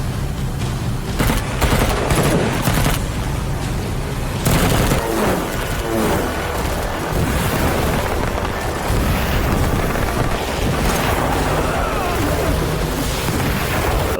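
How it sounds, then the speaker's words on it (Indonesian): Explosions and gunfire in an action film as swarms of small explosive drones attack SWAT officers, heavy booming blasts and rapid volleys crowding together with dense rumbling debris, loud and continuous with faint voices buried underneath. "Ledakan terjadi di mana-mana"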